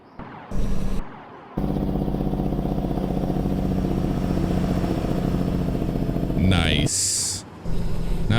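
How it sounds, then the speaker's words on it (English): Loud, steady rumbling drone of a Caterpillar-engined truck's Jake brake in American Truck Simulator, the engine braking heard up close with brief gaps and a couple of sharp higher whines cutting in near the end. "Let's do a flyby view here so we can listen to that Jake brake."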